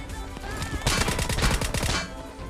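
Rapid burst of VSS rifle fire in PUBG, a dense run of close, sharp shots lasting over a second after a quieter stretch of game ambience.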